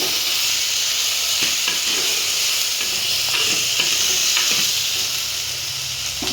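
Tomatoes frying in a pan while being stirred for a Telugu home recipe, a loud continuous sizzle with steady hiss and intermittent scraping stirs, no one talking.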